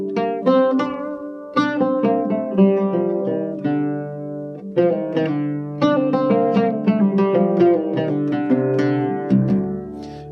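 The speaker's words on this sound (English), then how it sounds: "Maqam Bayati sounds like this" Arabic melody in Maqam Bayati played on a plucked stringed instrument, a busy run of close, clear notes moving stepwise with short pauses between phrases, heard alone without voices.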